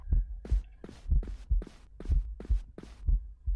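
Looping heartbeat sound in a horror video game: heavy, low lub-dub thumps repeating about twice per second, loud and near, with no voices over the pulse.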